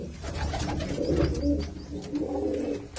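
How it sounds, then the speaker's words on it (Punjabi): Pigeons in a loft coo softly and continuously, low rolling calls overlapping close by with no voices. "ਦੇਖੋ ਨਿੱਕੀਆਂ ਨਿੱਕੀਆਂ ਛੋਟ ਛੋਟੀਆਂ ਕਬੂਤਰੀਆਂ ਨੇ ਇਹਦੇ ਵਿੱਚ"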